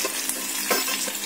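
Spices crackle and sizzle in hot oil for a tempering with chili pieces, asafoetida and turmeric, producing a steady close hiss with small pops and stirring, no talk.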